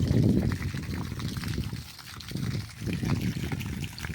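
Fresh drinking water running to waste from a pump outlet outdoors, a steady close splashing and trickling flow with a low gurgling rumble underneath.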